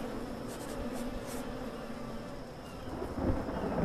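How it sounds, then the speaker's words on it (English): A thunderstorm rumbles and rain hisses steadily throughout a scene in the video game Submerged, with a louder swell near the end. "Storm is still happening, though it does seem to be a softening."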